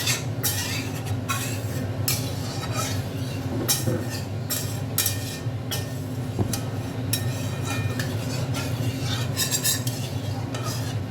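A kadai is rinsed out and water poured in after cooking dal in a home kitchen, giving scattered metallic clinks and knocks over a steady wash of running water and background hum.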